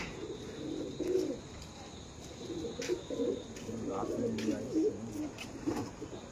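Domestic racing pigeons coo at night, soft low throaty calls rolling on and off in close succession, with occasional sharp clicks and faint background voices.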